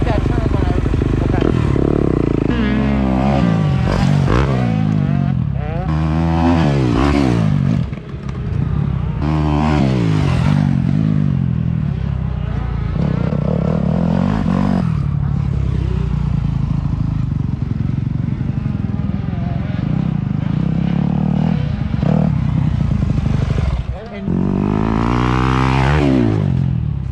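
A supercross dirt bike rides through ruts, its engine loud and close, revving and dropping as it cases and bounces over the jumps, with no speech over the riding.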